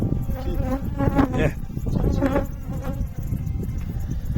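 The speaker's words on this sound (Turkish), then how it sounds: "Maskanın içine arı girdi." A loud, close buzzing of a bee trapped inside a face mask in the Trabzon highlands, droning continuously with wavering pitch, muffled as if trapped near the face.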